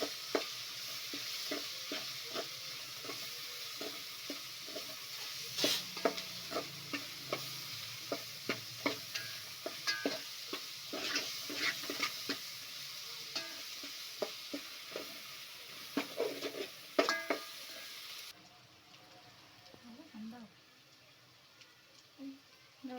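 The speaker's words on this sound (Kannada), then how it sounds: "ಈಗ ಎಲ್ಲವನ್ನು ಎಣ್ಣೆಯಲ್ಲಿ ಫ್ರೈ ಮಾಡ್ಕೊಳ್ಳಿ" Egg chakna ingredients with coriander powder fry in oil, a soft sizzle with repeated spatula taps and scrapes against the pan, quieter and thinner toward the end.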